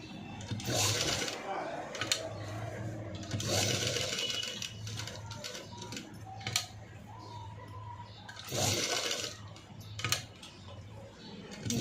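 A sewing machine stitches a padded, cut-work sleeveless blouse along its buckram side, running in steady bursts with short pauses between, close by, with a voice talking over parts of it.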